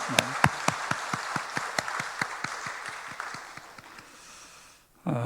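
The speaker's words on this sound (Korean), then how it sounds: "우리 힘차게 박수하겠습니다" A church congregation claps together in an even, rhythmic beat, with sharp distinct claps that slowly soften and thin out before stopping, followed by a brief burst of other sound at the very end.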